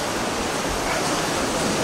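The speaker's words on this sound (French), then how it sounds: "vous voyez les grosses vagues, c'est partout comme ça hein, ici" Big ocean waves break along the shore at Puerto de la Cruz, Tenerife, a continuous broad roar of surf that stays loud and unbroken throughout.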